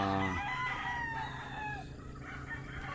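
A Sweater Gilmore gamefowl offspring rooster gives one loud close crow that breaks off after a moment, followed by softer clucks and faint farmyard background.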